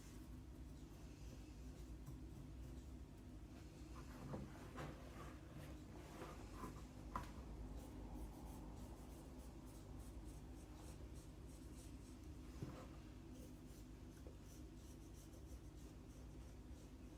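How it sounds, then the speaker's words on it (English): Pencil drawing lines over a fabric-covered lampshade frame along the struts for a Victorian-style pattern template, faint scratchy strokes in short bursts over a low steady background hum. "Draw over the lines where the fabric meets the struts."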